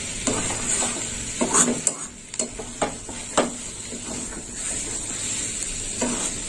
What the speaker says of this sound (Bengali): বেশ কিছুক্ষণ কষতে হবে তরকারিটা